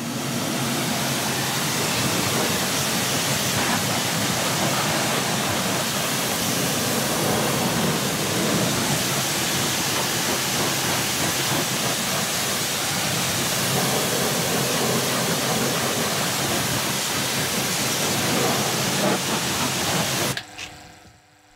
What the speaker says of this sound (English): left to soak for a moment to break down and soften up any loose grime before being thoroughly rinsed out with the pressure washer